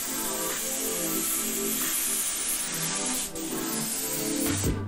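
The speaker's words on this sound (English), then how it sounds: "I'm gonna angle my airbrush this way" An airbrush sprays paint onto a shirt, making a steady close hiss of air and mist that holds throughout, with a short dip and a faint clatter near the end.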